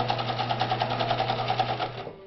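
A vintage Swedish Viking automatic sewing machine sews a zigzag stitch with a steady, fast, even chatter of needle strokes over a motor hum, then slows to a stop near the end.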